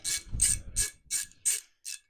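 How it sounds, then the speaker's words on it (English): Small hand ratchet clicking in six quick, sharp bursts while working on a tire pressure sensor, close and distinct against near silence. "I have my little ratchet"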